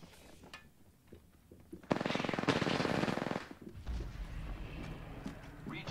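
Automatic weapons fire rattles out in a dense burst during an Apex Legends match, followed by lower booming impacts, with game voice lines and player chatter around it.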